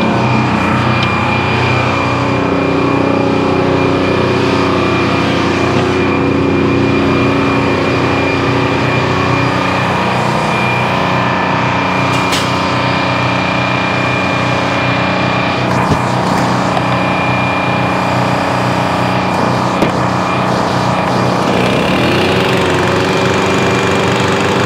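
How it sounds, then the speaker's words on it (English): Gas chainsaw cutting wooden blocking to four-foot lengths outdoors, loud continuous engine drone throughout with small shifts in pitch as the chain bites, close to the microphone and without talk. "I'm gonna go out and help them with the chainsaw here"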